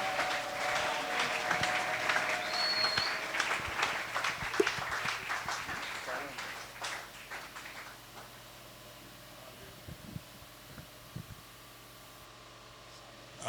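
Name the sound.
church congregation applauding the Lord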